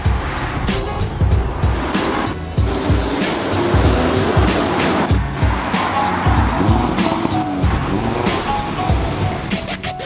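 An Audi RS3 accelerates hard on a test drive, its engine roaring loud and close with a steady, continuous rumble and rising revs throughout, and no talking over it.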